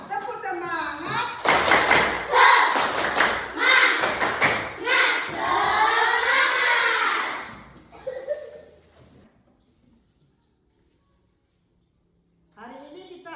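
A school class claps a rhythmic spirit clap together, loud and close, in quick patterned bursts mixed with children's voices chanting along, then fading to near silence before voices return.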